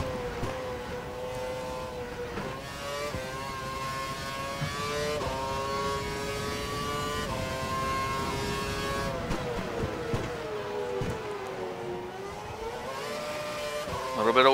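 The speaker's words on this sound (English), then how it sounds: "A little bit of wheel spin there." An F1 race car in the F1 2012 video game at Sepang for the Malaysian Grand Prix, on cold tyres with some wheel spin, gives a continuous high engine whine whose pitch rises and dips as it revs, under steady spoken commentary.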